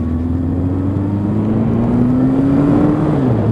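A Suzuki Katana 550 motorcycle engine under way on the road, a loud steady drone whose pitch slowly climbs as it accelerates then drops briefly near the end, with wind rush behind it.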